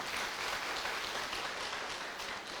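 Applause from a business-event audience for members who earned dream cars through Organic World Group, a steady even wash of clapping throughout, moderately faint with no talk.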